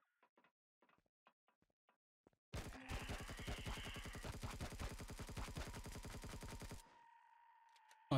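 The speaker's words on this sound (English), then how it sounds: "Sniper rifle." Shots fire in rapid succession in Empyrion Galactic Survival, a dense, loud run of sharp cracks lasting about four seconds after a few faint clicks, then a lingering tone.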